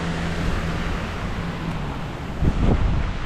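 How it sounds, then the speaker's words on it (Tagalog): Strong typhoon wind after a powerful storm, a loud, broad roar buffeting the microphone with a heavier gust near the end. "lakas ng hangin, oh"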